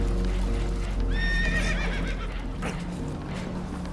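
Spooked horses neigh in Red Dead Redemption 2, one loud rising-and-falling whinny near the start over a constant rumble of rushing water and creaking boat noise aboard a damaged boat heading for rocks.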